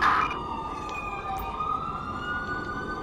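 A steady wailing ambulance siren in the video game LSPDFR drones on, close and continuous, with a low engine-like rumble underneath and no talking.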